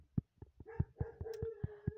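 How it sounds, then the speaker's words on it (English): A dog barks repeatedly in a steady rhythm, about nine short barks, moderately close, with a thin sustained tone running underneath, during an ice cream simulator game. "Oh, my dog's barking."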